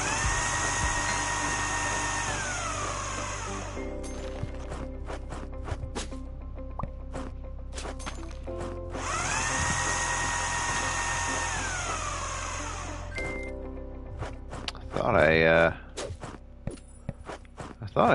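A power drill in a house-building video game whirs in two bursts, its pitch rising and holding, with clicks, taps and game sounds between.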